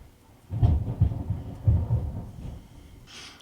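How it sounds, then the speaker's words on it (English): Low rumbling thunder rolls in a few soft bursts, muffled and distant, over a quiet background hiss. "I don't know if you can hear the rain and thunder in the background"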